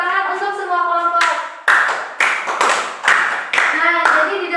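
Eighth-grade students in a school classroom clap for all the groups in a few loud bursts of clapping, with children's voices chattering before and between the claps.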